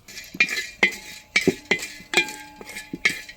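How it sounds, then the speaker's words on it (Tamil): Whole cardamom, cloves and a small piece of cinnamon are dry roasted in a pan without oil, giving sharp metallic clinks and scrapes of a spoon against the pan in an irregular rhythm, close and fairly loud. "ஒரே ஒரு சின்ன துண்டு பட்டை எண்ணெய் இல்லாமல் எண்ணெய் இல்லாமல் எல்லாத்தையும் வறுக்க போகிறாங்க"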